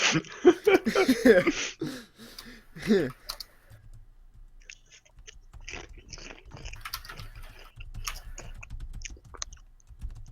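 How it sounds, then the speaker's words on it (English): Light keyboard typing clicks patter quietly in irregular bursts after a short stretch of talking at the start. "All just typing."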